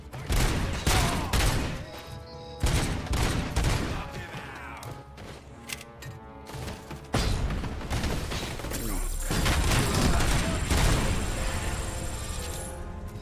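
Gunfire and grenade blasts from the video game RoboCop: Rogue City: repeated loud bursts of shots and heavy booms, with mechanical clicks and a high ringing tone in the later part.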